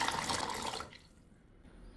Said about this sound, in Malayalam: ഇനി രണ്ട് കപ്പ് വെള്ളം ഒഴിച്ചു കൊടുക്കുക